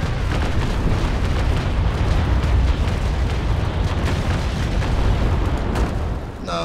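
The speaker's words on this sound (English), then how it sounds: "for that decisive broadside" A full cannon broadside from a sailing warship in the Naval Action game, heard as a loud, continuous roll of overlapping booming blasts that rumbles on for several seconds before easing slightly at the end.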